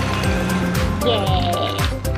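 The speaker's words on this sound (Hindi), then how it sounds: "ये गया, पानी में गया।" A toy CNG auto rickshaw splashes into water with sloshing and gurgling, while a person talks excitedly over the watery sounds.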